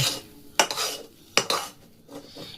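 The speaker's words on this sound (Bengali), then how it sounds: "এটাকে আমি এখন ঢেলে নেব এই থালার মধ্যে" Hot peda sweet mixture is scraped out of a metal wok onto a plate, heard as a few sharp metallic clanks and scraping strokes, with quieter spoon rubs between them.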